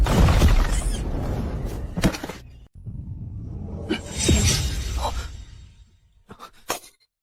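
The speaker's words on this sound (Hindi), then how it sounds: "यूकाई की जीवन आत्मा की पटिया टूट गई।" A soul tablet shattering in a dubbed fantasy drama: a heavy crash and breaking burst with rumbling, followed by swishing debris and scattered sharp cracks that fade toward the end.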